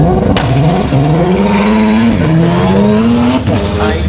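A race car at the Leyburn sprints revs hard through its gears with rising engine whines, loud and close, briefly easing and climbing again as it passes.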